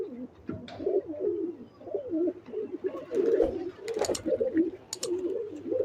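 Pigeons coo repeatedly in low, rolling phrases at close range, a steady run of calls with a few brief sharp noises breaking in among them.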